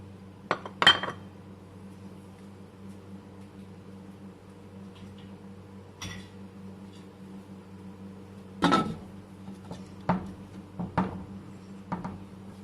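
Metal lid set down on a cooking pot of mutton with yogurt in a home kitchen, a few sharp clinks and clatters scattered over a steady low hum, no talking.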